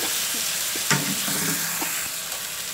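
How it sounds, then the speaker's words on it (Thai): Chicken and shrimp are stir-fried with chili and garlic in a hot pan, a steady close sizzle with a few scraping stirs and clatters rising over it. "เราผัดไก่นะครับพอใกล้ๆสุกเราก็ใส่กุ้งเลยครับ"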